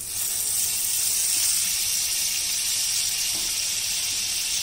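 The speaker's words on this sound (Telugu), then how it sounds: "అమూల్ బటర్ వేసుకున్నాను ఆయిల్ అవసరం లేదు" Amul butter melting in a hot pan with a steady, soft hiss and faint sizzle throughout, close and even, with no talking.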